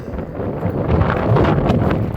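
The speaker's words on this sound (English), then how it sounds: "it's a little windy out here today" Loud, rumbling wind buffeting a microphone outdoors in uneven gusts beside a 2011 Mustang GT, filling the low end with a blustery roar; no voices.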